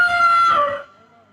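A single rooster crows once, loud and close, its strong call holding steady then trailing off into quiet within about a second.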